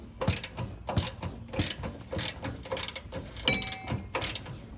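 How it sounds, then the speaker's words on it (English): Rapid ratcheting clicks in repeated bursts from a long ratchet wrench with a 19 mm socket loosening a bolt on a 2000 Lexus LX470 upper control arm, close and fairly loud, with no talk. "you can just squeeze a long ratchet and wrench in there with a 19 millimeter to get this bolt off"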